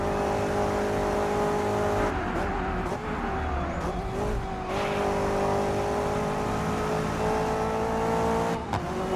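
A Ford GT or Porsche sports car engine roars steadily and loudly throughout, its tone shifting slightly as it rises and settles, with no break in the sustained drone.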